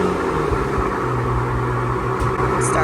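A BMW 535Xi wagon with a recurring exhaust leak runs after sitting raised for a week, giving a steady loud whirring drone with a low rumble, close and continuous, without voices.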